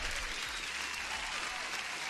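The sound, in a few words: applause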